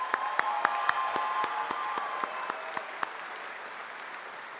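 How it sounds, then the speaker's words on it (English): Applause at a 2018 community college commencement ceremony for the graduates' families and supporters: a crowd claps steadily, with sharp individual claps rising above the wash, then fades over a few seconds. "give a round of applause for your support system here tonight"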